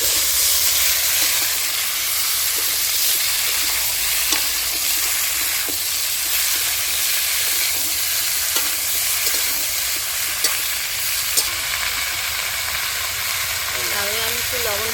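Bottle gourd sizzles steadily in a hot pan with lote fish while being stirred, giving a constant loud hiss with intermittent scraping clicks; a voice speaks briefly over the cooking.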